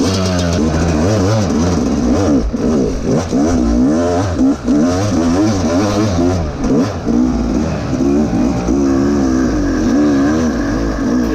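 A 2018 Yamaha YZ250X dirt bike on a Kenda Ibex rear tire, ridden on hard enduro trails in East Tennessee, revs loudly and continuously with constant throttle surges and rising and falling engine pitch for the whole stretch, with no talk.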